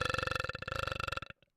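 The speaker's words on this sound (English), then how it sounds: "also burps with all of her essence" A single long burp rattles loudly and close for over a second, then ends with a faint trailing click.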